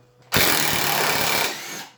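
An impact driver sinks a screw into knotty wood, a loud close whirring and rattling burst lasting just over a second before trailing off.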